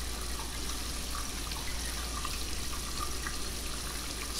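Steady running tap water fills the scene while a character brushes teeth and rinses in the Heavy Rain video game, a continuous even wash of splashing that stays constant throughout, with no talking.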